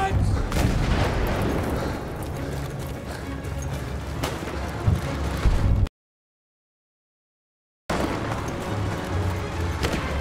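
An artillery barrage in Battlefield 1 rumbles continuously with scattered sharp blasts and gunfire, broken by a two-second gap of silence before the dense booming resumes.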